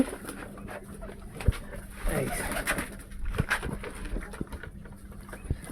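Pigeons coo softly amid a busy, noisy background with scattered bumps and clatter; the cooing is low and intermittent rather than prominent.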